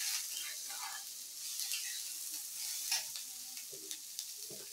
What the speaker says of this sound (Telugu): ఉల్లిపాయ ముక్కలు వేసి ఒకసారి కలబెట్టి